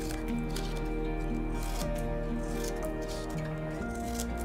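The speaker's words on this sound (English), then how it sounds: "Next you want to go ahead and cut varying width." Scissors snip through folded strips of crepe paper for a paper dahlia, soft crisp cuts against a steady background of music.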